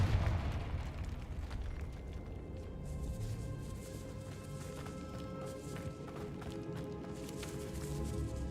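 Confringo blasting spell explosion in a Harry Potter video game, a low, sustained rumbling roar of blast and debris that keeps churning at steady loudness, with no talk.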